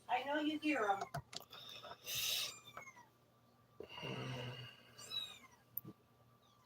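Kittens and full-grown cats meowing at close range, several high wavering meows in bursts with breathy snorts between, alone without talk.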